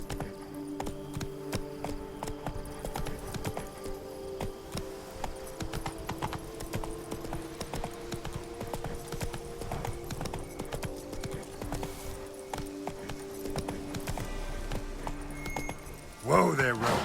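Roach, the horse in The Witcher 3: Blood and Wine, gallops with rapid, rhythmic clip-clop hoofbeats under game music, and a voice calls out as the hooves slow near the end.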